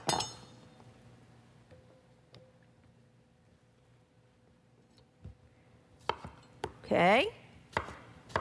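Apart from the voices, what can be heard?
knife slicing potatoes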